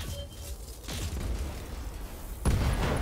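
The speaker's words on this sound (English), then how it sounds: "LOM ammo, internal ammo explosion." In the BattleTech video game, a mech's internal ammunition cooks off, producing a deep rumbling blast with crackling bursts, followed by a second sharp, loud explosion near the end, no voices.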